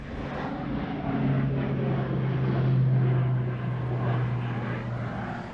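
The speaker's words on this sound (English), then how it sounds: "Airplane's flying low." Low-flying airplane passing overhead outdoors near a big dry maple stump, a steady broad engine drone with a low humming tone that swells slightly mid-pass and holds throughout, no talking.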